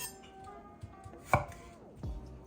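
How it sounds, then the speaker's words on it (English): A knife slices red onion into small pieces on a cutting board, a few separate, crisp cuts spaced apart in a quiet kitchen. "Just gonna cut some small slices."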